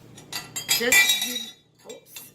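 Metal spoon stirring white vinegar into milk in a glass, giving bright clinks and taps against the glass in a few quick bursts with short pauses between.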